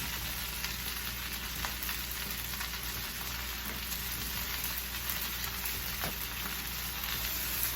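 Fried rice with vegetables, finished with butter and garlic, sizzling in a pan in a continuous close hiss with scattered small pops and crackles, nothing else heard.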